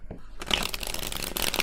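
A tarot card deck being shuffled close by: a brief quiet start, then a dense, continuous papery riffling and rustling for over a second, with a slightly sharper flurry near the end.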